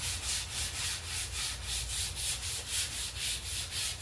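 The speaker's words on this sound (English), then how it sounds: "Let me sand it." Rhythmic hand sanding on a red maple guitar neck, steady back-and-forth strokes in about nine even passes, close and clear with no talking.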